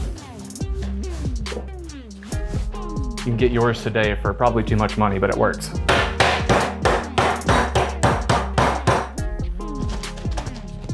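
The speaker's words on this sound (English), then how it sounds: "This is a Lewis bag, so excuse the noise, but we're gonna make it." Ice being crushed with a mallet in a canvas Lewis bag for a Kentucky bourbon pineapple mule: loud repeated thuds and crunches in a steady rhythm, with a person talking over the start.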